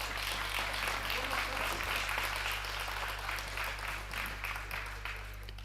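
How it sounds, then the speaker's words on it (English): Sustained applause from a crowd at a neighbouring table during an under-17 pool final at a European youth championship, a steady distant patter of clapping over a low hum, fading slightly toward the end. "The applause you're hearing could well be for the under 17 final"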